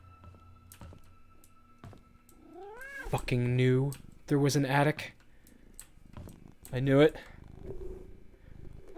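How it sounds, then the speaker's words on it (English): A cat purrs and rubs its face against a close microphone, making a low rumble and soft brushing bumps, while someone talks loudly over it in bursts. "This is not the time to be purring and rubbing your face on the mic"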